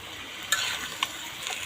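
Tomato chutney is stirred in a pan on the stove under a steady low sizzle, with a couple of light utensil clinks against the pan.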